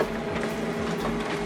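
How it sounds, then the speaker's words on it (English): A printer runs a double-sided print job, giving a brief steady mechanical rumble and whir with faint clicking, close and continuous without talk. "So now this document is printing."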